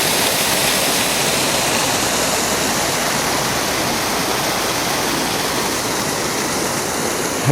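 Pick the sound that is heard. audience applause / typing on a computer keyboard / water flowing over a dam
water flowing over a dam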